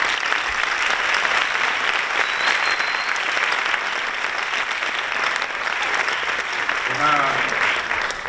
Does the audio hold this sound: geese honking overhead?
no